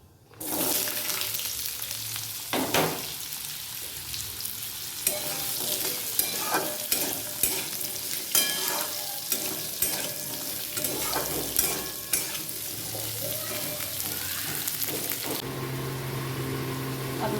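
Sliced potatoes sizzle steadily in hot oil in a pan, with repeated scraping and stirring clicks from a utensil over the continuous frying hiss.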